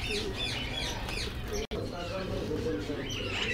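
Finches chirping at a Sunday bird market in Quetta: many small birds tweet in quick, overlapping bursts against a dense background hum of the market, with a murmur of voices and a brief cut partway through.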